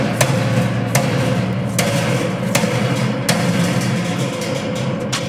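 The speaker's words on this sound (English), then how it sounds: "I'm taking a small 2-pound sledgehammer." A small 2-pound sledgehammer taps a steel cattle panel to start a bend, giving about seven sharp metallic strikes at a steady pace over a constant engine-like hum.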